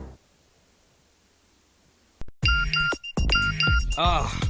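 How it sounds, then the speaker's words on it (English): A short chiming text message alert tone from a ringtone commercial rings out in a few bright, repeated tinkling notes after a brief silence, loud and close, with a voice speaking alongside. "What a lame text message alert."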